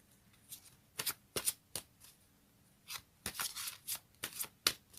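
Tarot cards being shuffled during a reading, a string of crisp riffling bursts in irregular clusters, close and clear with no talk over them.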